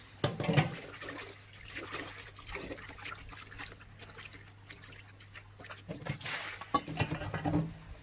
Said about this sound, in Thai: เสร็จแล้วเราจะมาทำการล้างค่ะล้างผ่านน้ำนะคะ ประมาณสองสามรอบนะคะ